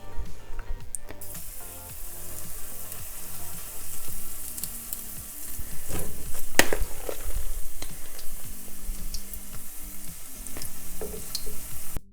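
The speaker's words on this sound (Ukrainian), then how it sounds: "Ось помішала і викладаю на сковорідку." Onion fritter batter sizzles and crackles steadily in a hot pan, a close, continuous frying hiss that stays loud throughout, with no talking.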